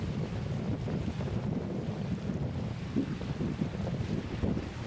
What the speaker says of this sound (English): 8-10 mile an hour wind, so we need a little more wind